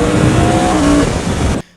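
Yamaha R1M superbike engine revving hard, a loud, high-pitched wail held for about a second and a half before cutting off abruptly, heard alone and close.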